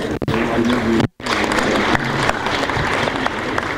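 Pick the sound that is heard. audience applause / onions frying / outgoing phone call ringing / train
audience applause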